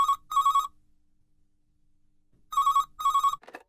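A telephone rings in a listening test recording with the classic double-burst pattern, two trills, a long silence, then two more, clear and close, ending as someone begins to answer.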